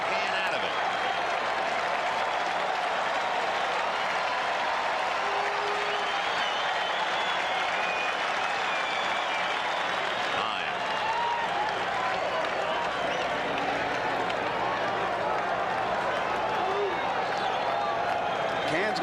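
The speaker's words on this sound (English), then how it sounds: "Crowd really alive now," A big baseball stadium crowd at Game 3 of the 1986 World Series between the Red Sox and Mets cheers and applauds in a steady, dense roar that never lets up.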